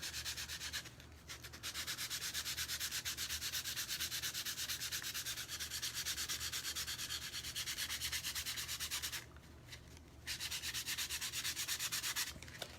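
Steady, raspy strokes of a light sanding scuff on a handmade primitive candy corn, rubbing back and forth at close range, continuous with two brief pauses, no voices.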